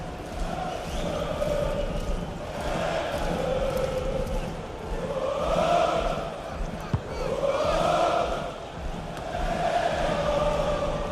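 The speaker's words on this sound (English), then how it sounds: "the atmosphere is so tense inside this stadium, but can they find that moment of magic to win this game? The crowd certainly think so. Just listen to them." Stadium crowd in a FIFA 22 Premier League match, Crystal Palace against Brighton, roaring and chanting continuously in broad swelling waves, loud and sustained with no clear voice on top.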